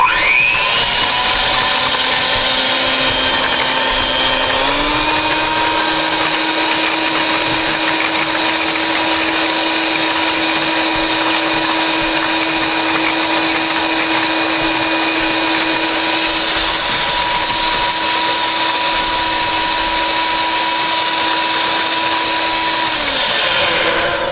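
An electric mixer beats evaporated milk into a mixture, a loud continuous motor whine running close the whole time, its pitch rising slightly early on and holding steady, with no talk.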